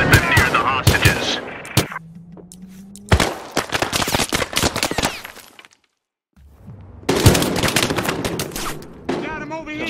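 Rapid bursts of automatic gunfire in a video game match, loud close volleys with sharp cracks broken by brief pauses and a near-silent gap, with hints of voices in between.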